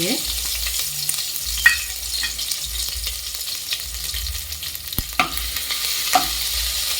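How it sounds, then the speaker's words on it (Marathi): A spoonful of ginger garlic paste fries in hot oil for a jackfruit biryani, crackling in a continuous close sizzle with scattered spatter pops and a few utensil clicks. "आता ह्या गरम तेलामध्ये मी एक चमच्याभर आलं लसूण पेस्ट घालते"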